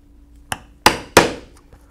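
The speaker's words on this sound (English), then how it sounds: "As you can see now, I'm using a 1/8 inch punch" A mallet striking a 1/8 inch leather punch through leather, three sharp, close knocks in quick succession, the last two loudest with brief ringing decay, followed by a faint tap.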